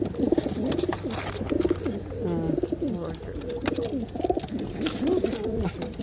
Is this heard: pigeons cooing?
yes